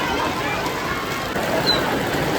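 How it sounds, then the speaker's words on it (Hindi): Hailstones pelt down in a village storm as a dense, steady hiss and patter that holds throughout at close range, loud and unbroken. "ओले पड़ने लग गए हैं।"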